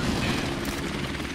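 A helicopter killstreak in Call of Duty Modern Warfare Remastered gives a steady, loud rotor and engine drone that fills the short moment, with no talking over it.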